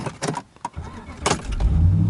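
A 2011 Dodge Power Wagon truck engine cranks and catches with a couple of short bursts, then settles into a low rumbling idle, heard close up.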